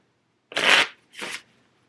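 Two quick riffle shuffles of a deck of cards, a longer burst followed by a shorter one, close and crisp with no talking.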